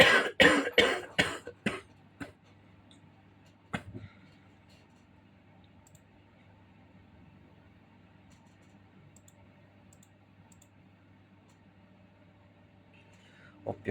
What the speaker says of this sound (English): been coughing the whole day